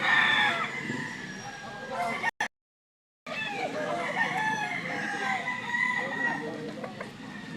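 Fighting roosters crow at a gamecock sale in Lipa, Batangas, several drawn-out calls overlapping with clucking while people talk nearby, broken by a short gap of silence.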